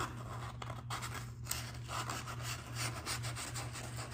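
Steady rasping of sandpaper rubbing over a wooden guitar body, continuous and close, with a light back-and-forth rhythm.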